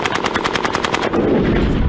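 A rapid, steady burst of M60 machine gun fire, about a dozen shots in quick succession, loud and close, ending in a lingering rumble.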